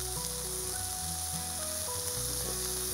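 Green chilli sautés in a pan for spinach and egg poriyal, giving a steady close sizzle and fry under light background music.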